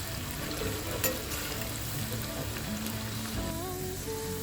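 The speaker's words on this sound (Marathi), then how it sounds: "आता बघा हा कांदा आपल्याला अजून थोडा वेळ तो थोडा खरपूस होईपर्यंत तळायचा आहे." Onions frying in hot oil for chicken biryani, a steady dense sizzle with occasional scraping stirs, close and continuous throughout with no talking.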